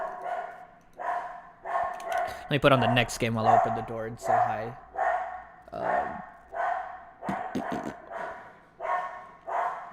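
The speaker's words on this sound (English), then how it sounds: "my dog's telling me that somebody's here" A dog barks at someone arriving at the door, giving repeated loud, sharp barks in a steady rhythm through the whole stretch, while someone talks over the middle of it.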